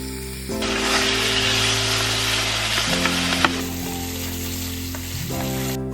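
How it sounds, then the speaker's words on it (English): Strips of bacon, sliced about 3/4 inch apart, sizzle steadily in a pan as they cook until crispy, with a loud continuous fry and a few faint clicks from the pan. "Cook the bacon until it is nice and crispy."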